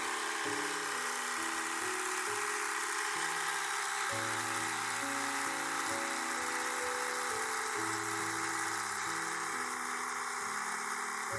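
An electronic bar tacking sewing machine winds a bobbin with a steady, fast motorized whir, its pitch stepping up and down at intervals over a constant background hiss.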